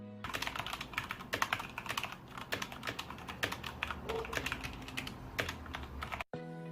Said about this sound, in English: Here's a type test.